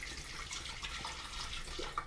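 Spring water is poured into a blender with sea moss, giving a soft, steady splashing trickle that runs evenly throughout at low volume.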